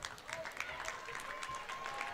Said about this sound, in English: Big claps for the trio of seniors that come off the floor.